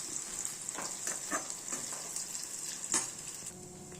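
Brinjal slices deep frying in hot oil, a constant crackling sizzle with soft bubbling pops, close and steady with no talking.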